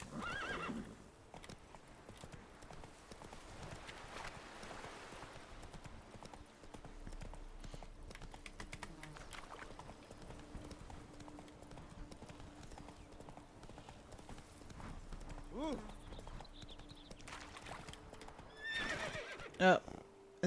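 Hoofbeats of Roach, a horse in a video game, clip-clop steadily across outdoor terrain, joined by whinnies and neighs near the end, with a faint ambient music bed underneath.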